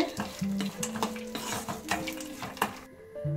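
Cashew pieces frying in a pan for rava laddu, with a steady sizzle broken by repeated scraping and stirring clatters, close and moderately loud, ending in a brief quiet gap.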